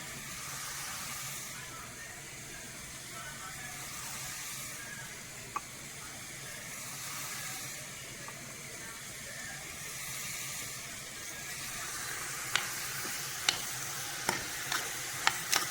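Tomatoes, chilli powder and coriander powder sauté gently in oil for prawn thokku, giving a soft continuous sizzle and hiss. Near the end a utensil clinks against the pan in a short run of sharp taps.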